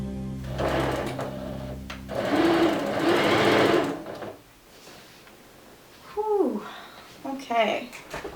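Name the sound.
sewing machine stitching fabric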